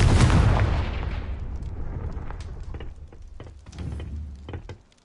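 Casting the Confringo fire spell in Hogwarts Legacy sets off a loud explosive blast that rumbles and fades, followed by scattered thuds and crackling debris impacts that taper off into quiet.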